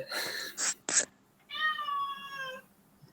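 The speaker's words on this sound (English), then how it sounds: "There's the cat." A cat meows in a short series: two brief calls followed by a longer, drawn-out harmonic meow, close and fairly clear against a quiet indoor background.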